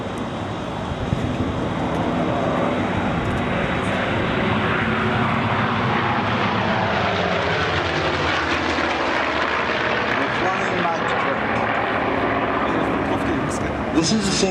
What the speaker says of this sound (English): the three great big Sky Raiders,